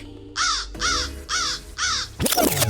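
A crow caws four times in an even, steady rhythm, each call loud and close, followed by a short burst of rustling noise at the end.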